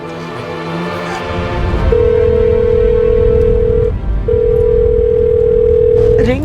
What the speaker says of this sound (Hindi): रिंग जा रही है पर विवेक फोन नहीं उठा रहा है।